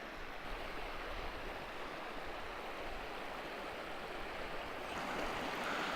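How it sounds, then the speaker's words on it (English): A creek in Ecuador rushes steadily nearby, a continuous broadband wash of flowing water with no voices. "I came to shoot this creek here."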